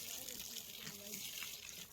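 Water running from a hose into a field of chickpea plants on a farm, a steady broadband rush that stays loud and continuous throughout, with faint voices underneath.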